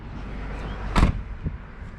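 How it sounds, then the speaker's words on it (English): A single short thunk of a Mustang's car door opening against low road-like rumble, followed by a softer knock about half a second later. "Open the door"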